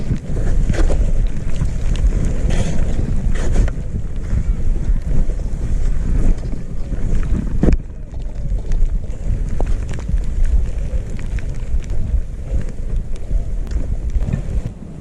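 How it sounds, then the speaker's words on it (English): Strong wind roars and buffets the microphone at a stopped ski lift on a Utah ski slope, a loud, continuous blustery rush with brief dips. "the wind is really blowing"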